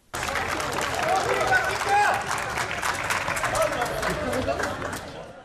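Parents gathered outside a YKS/AYT university entrance exam site applaud as a late candidate runs into the hall, steady clapping mixed with crowd chatter and noise throughout.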